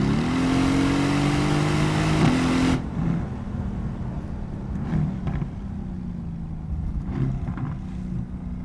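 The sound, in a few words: Mercedes AMG GT-S SEMA car engine accelerating on road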